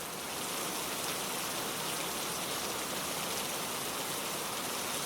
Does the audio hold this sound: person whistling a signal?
no